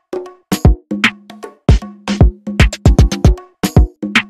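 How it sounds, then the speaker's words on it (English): Bongos and congas with pitched, resonant tones play a busy syncopated pattern alongside deep kick thumps and sharp snare hits, loud and close. "Together with the kick and the snares, they sound like this."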